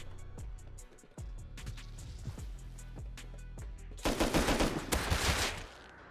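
Enemy gunfire in a modded shooter game crackles in steady rapid shots, growing into a dense, louder barrage of automatic fire toward the end, with no talk.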